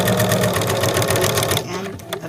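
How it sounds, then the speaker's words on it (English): A sewing machine stitches quilt block fabric pieces together for Christmas pillows, a loud close rapid mechanical whir that runs steadily and then slows toward the end. "you just sew, so keeping the edge of the fabric along the edge of the presser foot"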